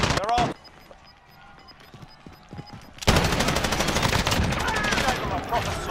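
Light machine gun fire in Call of Duty Warzone: a loud, dense stream of rapid automatic shots that starts partway through and keeps going, with scattered quieter shots and talking before the burst.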